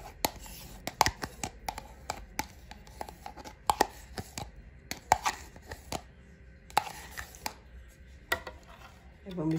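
A spoon stirs natural yogurt into warm milk in a pot, making irregular sharp clicks and taps against the container with brief pauses between clusters, under a quiet background.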